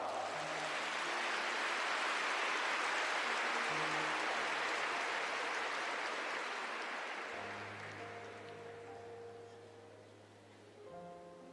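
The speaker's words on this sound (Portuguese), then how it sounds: "aplauda essa palavra" A church congregation claps during a Catholic worship service, a broad sustained wash of applause that slowly fades out as soft organ-like chords come in underneath.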